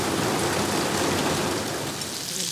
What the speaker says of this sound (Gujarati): તમે જો કેટલો વરસાદ આવી ગયો.